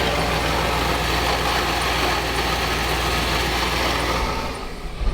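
A van engine cranks and chugs steadily, nearly catching but never quite starting, a loud continuous low rumble throughout with no voices.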